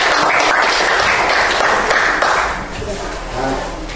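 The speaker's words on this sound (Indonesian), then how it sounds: "Ya, beri tepuk tangan." Students in a classroom applaud a group presentation, a loud wash of clapping close by that fades partway through, leaving voices murmuring underneath.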